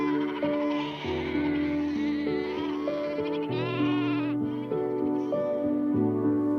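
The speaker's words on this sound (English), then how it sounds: "No, it's only sheep. Lots of sheep." A large flock of sheep, three thousand or more, bleating loudly and continuously, many overlapping wavering calls close by at an English country estate.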